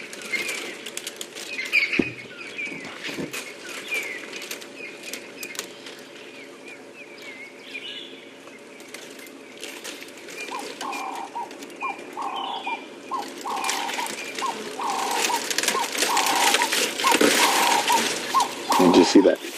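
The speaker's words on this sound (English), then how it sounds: "Right above us we can hear a Cape turtle dove." A Cape turtle dove calls from directly overhead on a morning safari drive, repeating its rhythmic cooing phrases against a busy bush background of other birds, wing flaps and faint ambient noise.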